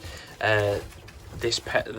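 A pigeon coos close by in a low, throaty burst in a bird room, followed by softer bird sounds; a voice may be faintly present.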